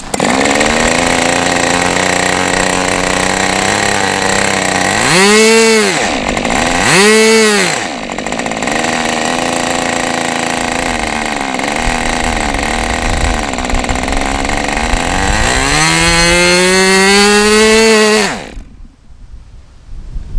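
A two-stroke chainsaw engine running on Motul Micro 2T oil fuel mix runs loudly and steadily, struggling slightly, revving up twice in quick bursts, then winding up again near the end before cutting off abruptly.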